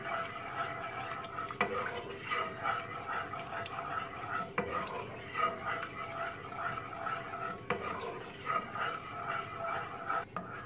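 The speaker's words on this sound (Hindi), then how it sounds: "तकरीबन 2 मिनट के लिए हम इसी तरह इसको हिलाते रहेंगे।" Cream being stirred in a pan over a medium-low flame to make khoya from milk powder, with steady scraping and clinking of a utensil against the pan and a soft sizzle throughout, no talking.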